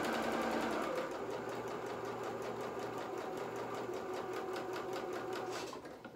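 A sewing machine stitches fur fabric onto a skirt for a Luna Lapin doll dress, giving a fast, even mechanical whirring chatter that runs steadily and quietly for several seconds before slowing at the end.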